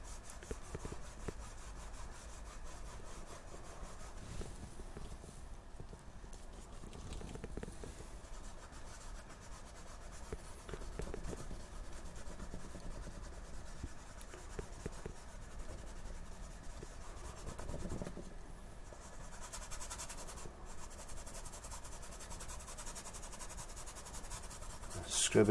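A paintbrush scrubs white acrylic paint onto canvas for a seascape, making a soft continuous scratchy rubbing with steady back-and-forth strokes, faint and close, with no talking.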